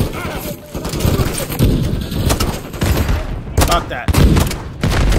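Gunfire in the Call of Duty: Modern Warfare 3 campaign during a nighttime Verdansk firefight, with dense, continuous bursts of shots and impacts filling the scene while a voice briefly speaks over the barrage.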